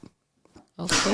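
A short sneeze: a couple of quick intakes of breath, then a loud, sharp burst that carries to the end.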